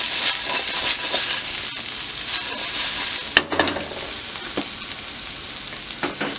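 Potatoes frying in oil in a pan, with a loud continuous sizzle broken by spoon scrapes and clacks as they are stirred, close and without talk.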